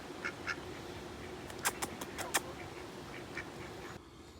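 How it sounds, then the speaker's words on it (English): Two tiny ducklings, about two weeks old, on a canal beside a narrowboat give scattered quacks and peeps, a brief cluster in the middle, faint against steady outdoor background noise. "these 2 little tiny little ducklings, they can't be more than about 2 weeks old"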